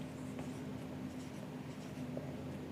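A pen scratching on paper while working an accounts problem, a faint, steady scribbling over a low background hum, with no speech.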